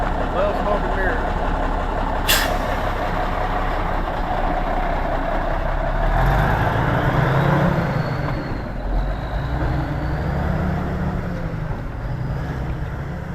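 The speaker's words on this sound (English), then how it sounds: "I'm a new caretaker of the Rubber Duck Truck from the Convoy movie." The Rubber Duck big rig truck from the Convoy movie idles with a steady low rumble at a gathering of iconic trucks, while people talk nearby over the engine.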